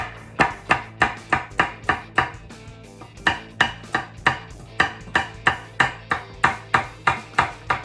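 A knife chops vegetables, carrots and a leek, on a cutting board for a Polish cucumber soup, with steady crisp knocks in quick even runs and one short pause midway.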